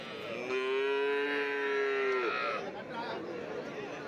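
Cattle at a Tamil Nadu livestock market: one loud, drawn-out moo lasting about two seconds rises over constant crowd chatter and market bustle.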